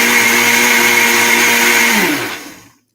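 A kitchen blender whirs loudly at close range while blending coquito ingredients, a steady motor drone that winds down and stops near the end.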